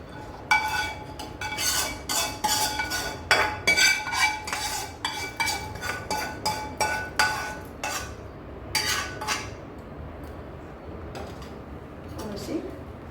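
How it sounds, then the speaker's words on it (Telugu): A spoon scraping and clinking rhythmically in a bowl while hot oil is stirred into a drumstick pickle, a steady run of metallic knocks that thins out toward the end, with a voice faintly present. "పోసి బాగా తిప్పుదాం నూనె కలిసేటట్టు."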